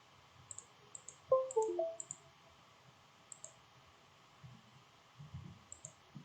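Computer mouse clicks while working in PowerPoint, a handful of short, faint, sharp clicks spread irregularly across a quiet room with low background hum.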